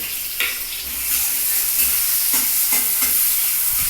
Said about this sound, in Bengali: পেঁয়াজ কুচিটা একটু লাল করে ভেজে নিচ্ছি